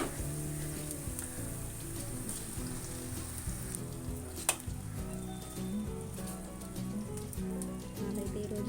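Pieces of turmeric-coated fish sizzle steadily in hot oil in a pan, a continuous close crackle and hiss with one brief sharp pop midway and no talk.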